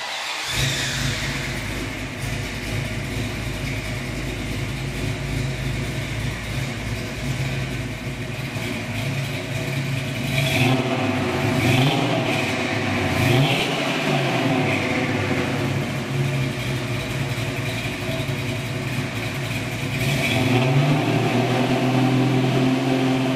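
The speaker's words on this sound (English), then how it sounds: "A mandrel-bent dual exhaust system sends burnt gases past a tubular transmission crossmember to an X-pipe crossover" A 1967 Chevrolet Nova V8 rumbles through a mandrel-bent dual exhaust with X-pipe crossover and dual-chamber Flowmaster mufflers, idling loud and steady with several throaty revs swelling up midway and near the end.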